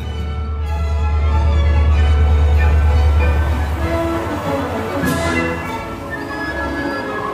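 A train skirting a fjord along Norway's coast, with a loud low rumble of rolling wheels and engine that swells, then eases, alongside faint higher tones, with no talk over it.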